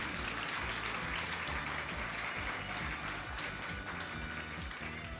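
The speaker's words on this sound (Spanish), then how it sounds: "Le brindamos un fuerte aplauso." Sustained audience applause fills a teachers' national award ceremony, dense and steady clapping from a large crowd throughout, loud and unbroken with no talk over it.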